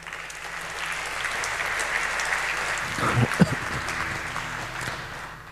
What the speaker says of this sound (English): So can we have a round of applause for these guys that are not here?